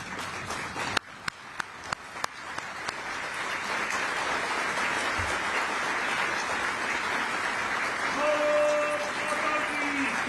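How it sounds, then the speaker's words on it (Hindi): An audience rises to applaud Lok Sabha Speaker Om Birla at a ceremony: a few scattered claps first, then a full, sustained roar of clapping that holds steady and loud, with a soft tone sounding near the end. "माननीय लोकसभा अध्यक्ष श्री ओम बिरला जी का अभिनंदन खड़े होकर करतल ध्वनि के गड़गड़ाहट के साथ करें"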